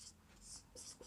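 A pen writing on paper during a class 9 maths geometry construction, giving short, faint scratchy strokes in quick bursts, close by and quiet.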